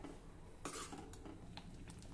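Thick gram-flour pithla being stirred in a cooking pot over medium to high heat, with a few scraping, clinking strokes of a spoon against the metal pot amid a soft simmer.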